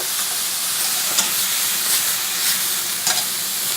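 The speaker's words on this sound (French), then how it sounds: "L'oignon et l'ail qui rôtit." Garlic and onion fry in a pan with a loud, continuous sizzle and hiss. A few faint clicks rise briefly above it.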